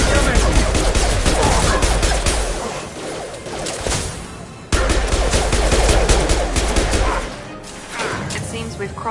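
Gunfire in the video game Mass Effect 2: loud, dense bursts of automatic fire crackle almost without pause, with impacts and whooshes in the mix and a brief drop before the shooting resumes.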